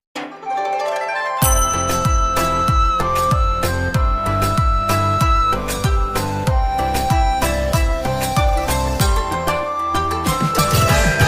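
A notification bell effect, given as a bright, sustained ringing chime pattern. The ringing repeats steadily, loud and alone, for about ten seconds after a brief quieter lead-in.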